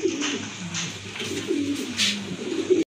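Pet pigeons coo in a collection of mixed varieties, with low repeated cooing calls overlapping close to the microphone for a few seconds.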